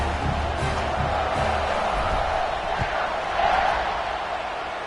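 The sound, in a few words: football stadium crowd cheering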